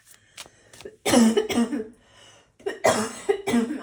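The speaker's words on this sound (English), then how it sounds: "I'm so sorry for the coughs." Two bouts of heavy, rough coughing, each a cluster of hacking bursts, close to the listener with brief quiet breaths between.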